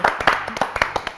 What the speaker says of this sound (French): Applaudissements pour Martha.